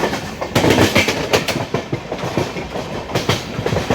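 A Garib Rath express with LHB coaches runs over the tracks near a junction, giving a steady loud rumble with repeated clickety-clack wheel beats throughout.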